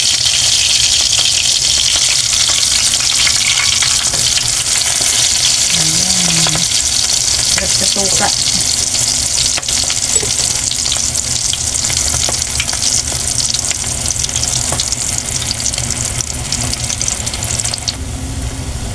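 Tiny fresh shrimp (alamang) fritters bound with plenty of egg fry crisply in hot oil in a pan, giving a steady close sizzle throughout with brief clinks of a utensil and a few short spoken words over it.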